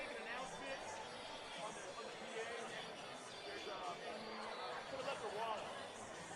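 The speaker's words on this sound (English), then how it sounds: "some of the crowd lingering." Faint, steady crowd chatter lingers in a high school basketball gym after a boys varsity game, a soft diffuse murmur of many distant voices with no single speaker standing out.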